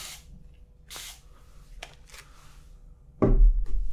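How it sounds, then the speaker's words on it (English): Two short hissing spritzes from a spray bottle misting hair during a haircut, close and soft, followed by a few faint rustles and a louder handling thud near the end. "let me just spray a little bit more."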